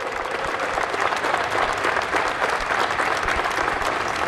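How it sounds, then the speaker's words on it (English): A crowd at a ribbon-cutting ceremony gives a full round of applause, a thick wash of many hands clapping steadily and close without letup. "Let's give another round of applause,"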